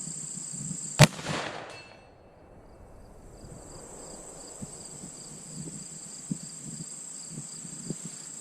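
A single sharp report from a CVA Optima V2 muzzleloader rifle fired at a 150-yard target from a lead sled, loud and close, trailing into a soft outdoor ambience with insect chirps.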